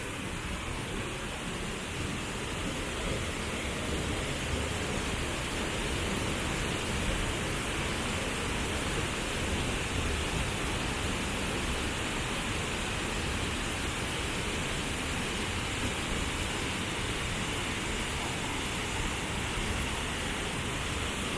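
Mantayupan waterfall in Cebu, Philippines, a 14-meter fall running muddy brown after two weeks of rain, roars with a steady, loud, broadband rush of falling water that holds unchanged throughout.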